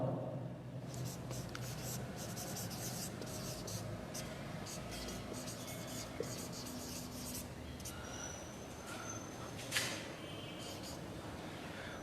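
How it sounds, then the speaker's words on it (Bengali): Chalk writing on a blackboard during a grammar lesson, quiet tapping and scratching strokes in short bursts with soft rustles between them, faint and close, with a few murmured words. "আমি সেই নিয়মটা ব্ল্যাকবোর্ডে লিখে দিচ্ছি"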